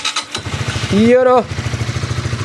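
Honda RS 150 motorcycle engine cranking and catching, revving briefly, then settling into a loud, close, steady putter; someone speaks briefly as it starts.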